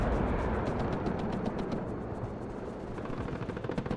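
A-10 attack aircraft firing its rotary cannon in the WARNO strategy game, a dense continuous roaring burst of rapid gunfire mixed with battle noise, loud throughout with rhythmic crackling pulses.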